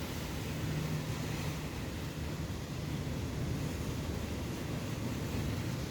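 Strong wind blowing hard around a house, with tree leaves whipping, a dense, steady roar and buffeting rush that stays loud and unbroken throughout, with no voices.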